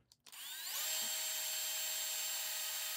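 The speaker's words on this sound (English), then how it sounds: "let's take out these 2 screws here first" A powered screwdriver backs screws out of an interior door handle, a short click followed by a rising then steady high whine from the motor, close and continuous, with no talking.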